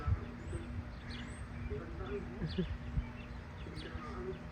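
Birds call and coo intermittently in the background, soft chirps scattered over a faint hum with a voice nearby.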